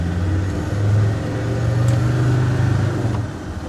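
A customised Land Rover Defender 110 TD5 accelerates through the gears, its diesel engine a steady, close, low drone that dips briefly between shifts.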